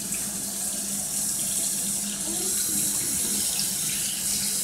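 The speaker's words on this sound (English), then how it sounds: "I splashed water" Tap water runs and splashes at a sink during a saline sinus wash. The rushing flow is loud, close and continuous throughout, with no voices.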